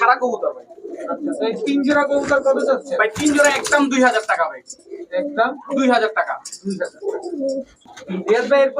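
High-flyer Giribaz pigeons coo in soft repeated bursts from close by, mixed with chatter and talking throughout.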